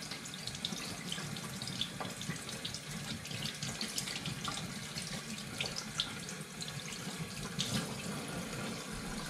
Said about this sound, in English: So under really cold water, when you rinse them off, making sure there's no deposits left on the portions